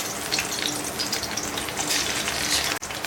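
Aloo chapli kababs with the tomato side down sizzle and crackle steadily in preheated oil, a close, continuous frying hiss with no talking.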